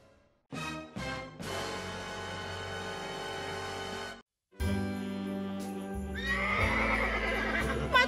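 Horses in the ranch-building video game Ranch Simulator whinny in two long, loud neighs separated by a short gap, with hoof clip-clop and a faint jingle underneath.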